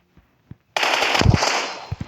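Sudden loud burst of sustained automatic gunfire in a shooter video game, erupting after a near-silent start and rattling continuously before fading, with a couple of faint thumps around it.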